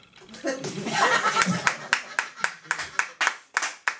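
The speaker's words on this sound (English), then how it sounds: "Yeah, clap it up for that." Audience at a comedy show in a club claps and laughs, with a burst of mixed laughter and applause that thins into a run of distinct, rhythmic handclaps, fairly close.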